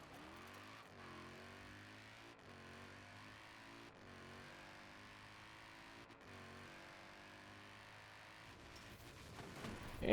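The engine of the Null Car drones steadily as it drives in Forza Horizon 4. The tone rises and falls through repeated gear shifts at moderate, distant-sounding volume, and the revving swells near the end.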